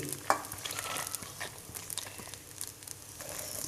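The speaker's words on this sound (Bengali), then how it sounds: "এবার আমি চুলোর আস্তা মিডিয়াম লোতে রেখে চাল ভুনে নেব" Raw rice and flat beans are stirred and dry-roasted in a pan over a medium-low flame for vegetable khichuri, giving a close, continuous soft sizzle broken by repeated scraping and rustling stirs, with no talking.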